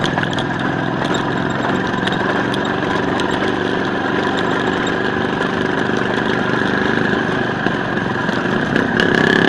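An Izh Planeta 5 motorcycle engine labors steadily while riding up out of a ditch on a rural dirt track, a loud, close, continuous single-cylinder drone with no talk over it.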